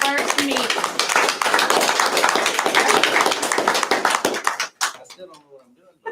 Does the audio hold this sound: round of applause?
yes